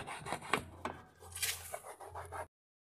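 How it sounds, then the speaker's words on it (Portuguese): An old sock rubs back and forth over an interior plastic car part, making a close, quiet, rhythmic scrubbing that cuts off abruptly. "Vamos lá, tô com essa meia velha. É só esfregar, só tirar."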